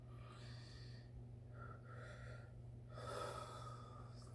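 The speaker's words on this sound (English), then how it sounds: "This is a full breath." A slow, deep full inhale for a pranayama breathing exercise sounds close and airy, drawn out over several seconds with a soft hum underneath.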